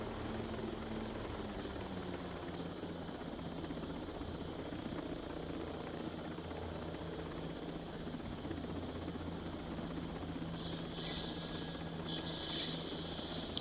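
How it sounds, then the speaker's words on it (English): A helicopter climbs as high as it can, its engine and rotor making a steady, moderately distant drone throughout, with no talking. "we're gonna go as high as we can with that chopper"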